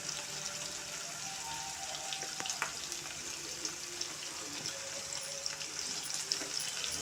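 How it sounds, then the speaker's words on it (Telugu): Sliced bitter gourd frying in hot oil on a low flame, giving a steady hissing sizzle with scattered crackles and pops throughout, fairly close, with no talk. "ఫ్రైకి వేస్తే సిమ్లో పెట్టి ఫ్రై చేసుకుందాం."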